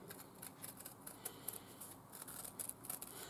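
Scissors snipping around a circle through fabric pieces backed on both sides with firm paper, a quick run of crisp, close, rhythmic cuts in a quiet room.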